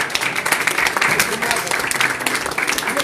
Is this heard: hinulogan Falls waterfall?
no